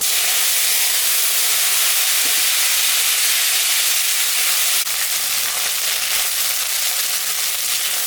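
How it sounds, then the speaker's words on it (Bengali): Flat beans tipped into hot oil seasoned with panch phoron in a home kitchen, frying with a steady, loud close sizzle and hiss throughout, a brief stir partway through. "ভাজা তেলের উপরে আমি পাঁচফোড়ন সম্বরা দিলাম। এখন আমি সিমটা দিয়ে দিব।"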